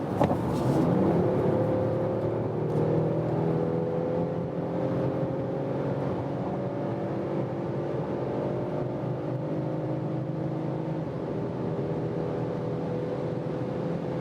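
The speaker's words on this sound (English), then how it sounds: "now we can test how is the acceleration when we are already at speed from 120 kilometers an hour" A 2021 Mercedes E-Class All-Terrain wagon accelerates hard from 120 km/h, its engine droning in a steady rising tone with road and wind roar inside the cabin.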